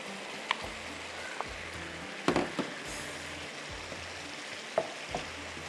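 Paneer and tomato masala fries quietly in a pan: a soft, steady sizzle broken by a few sharp clicks and scrapes of stirring.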